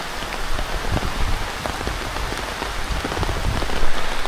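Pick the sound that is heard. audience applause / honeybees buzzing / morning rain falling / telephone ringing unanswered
morning rain falling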